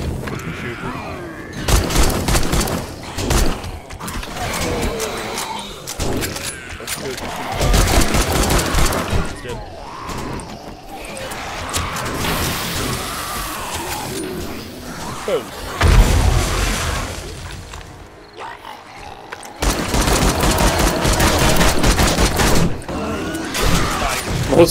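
Gunfire in the zombie survival game 7 Days to Die, loud bursts of rapid shots and booming blasts in clustered volleys with brief lulls, while a player talks over the action.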